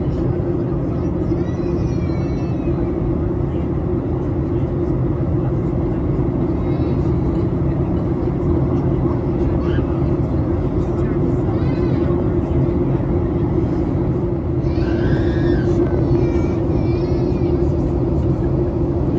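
Steady loud roar of a Southwest airliner cabin on approach into Orlando, a constant engine and airflow drone throughout with someone talking over it.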